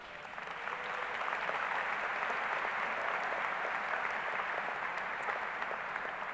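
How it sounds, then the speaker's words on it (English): A graduation audience at Clover Hill High School gives its teachers a round of applause, a steady wash of many hands clapping at once that builds quickly and holds evenly, filling a large space at moderate distance. "let's show them a little gratitude by giving them a round of applause"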